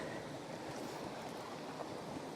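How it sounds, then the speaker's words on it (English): A stream flows beside the Nenthead lead mines, a faint, steady rushing wash of water, even and continuous, with a light breeze over it. "So this is the other side of the river, or the stream"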